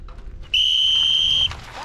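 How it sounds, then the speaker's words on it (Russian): A referee's whistle blows a single sustained, shrill blast of about one second to start a mountain bike short track race, with faint crowd murmur before and after. "По свистку, ребята."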